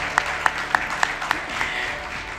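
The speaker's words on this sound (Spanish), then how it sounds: "con este cálido aplauso les despedimos" Audience applause closing a panel discussion on AI as a tool for transparency, a brief burst of several distinct claps at a steady rhythm, fading toward the end, moderately close.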